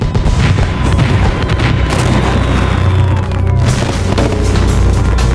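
Thousands of fireworks go off in a chain reaction, and the dense, continuous barrage of booms, crackles and whistling streaks stays loud and relentless the whole time.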